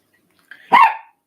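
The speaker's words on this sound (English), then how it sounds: "The dog's going crazy." A dog named Figaro lets out a single loud, close bark, preceded by a faint short yip-like onset, in otherwise quiet surroundings.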